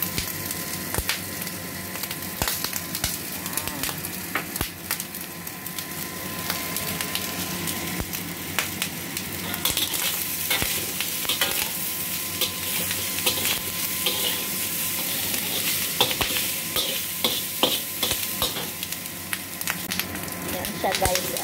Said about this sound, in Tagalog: Tapos lagyan natin siya ng paminta at toyo. I-fry muna natin siya.